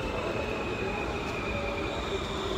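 Steady rumbling of a train arriving at an Amsterdam station, with a sustained whine and broadband rolling noise throughout, loud and close.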